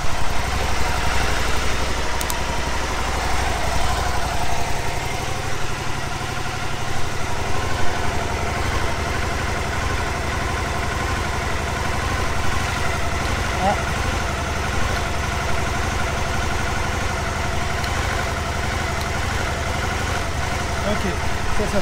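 Aprilia Caponord 1000 ETV motorcycle engine idling steadily and close by for about twenty seconds, a continuous rumble with a voice talking faintly in places.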